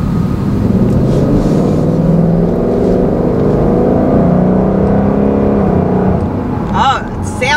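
A 460 hp Ford Mustang GT engine revs, a loud, steady low rumble close by with varying pitch, and a voice breaks in near the end.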